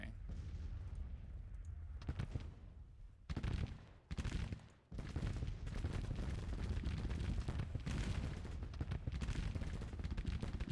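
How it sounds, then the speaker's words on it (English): Troops firing in a Civil War strategy video game, heard as dense crackling musket volleys that roll on almost without pause, with a couple of brief lulls. "All right, it says they're firing."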